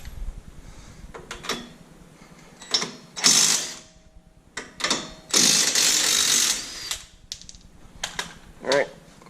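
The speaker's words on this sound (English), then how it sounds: "Now I need to remove these two 24 millimeter bolts." Ratcheting and bursts of a tool loosening two 24 mm bolts on a supercharged Ford Mustang's suspension, with several separate runs of mechanical clicking and whirring close by and short pauses between them.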